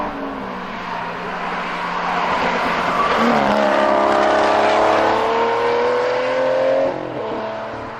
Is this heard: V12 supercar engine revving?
yes